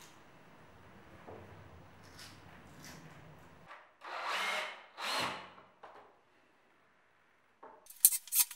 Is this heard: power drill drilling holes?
yes